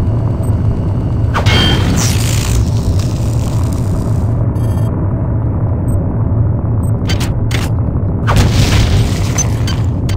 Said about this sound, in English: Now let's destroy this camera.